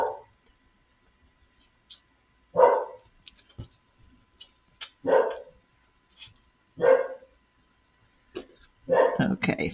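A puppy barks outside at some distance, about five separate barks or short bursts spaced a few seconds apart, with faint low sounds in between.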